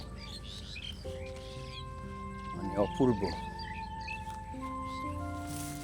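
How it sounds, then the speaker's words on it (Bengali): Birds call in open countryside beside the Dhaleshwari River near a Keraniganj village, faint chirps and a brief trilling burst in the middle over a low rural hum, with a person speaking briefly. "পাখি ডাকছে"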